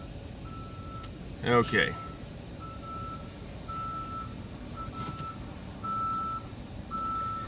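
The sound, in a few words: truck reversing beeps at a truck stop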